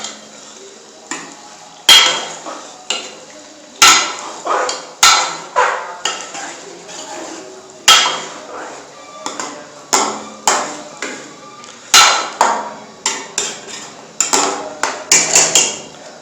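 A spoon stirs shalgam chicken curry in a cooking pot, striking the metal in sharp, irregular clinks and scrapes that repeat every second or so, close and fairly loud.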